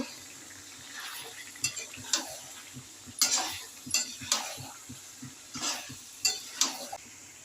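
Chicken gizzard and liver pieces sauté with potatoes in a pan, a low steady sizzle broken by repeated scraping stirs of a spoon, close up with no talking.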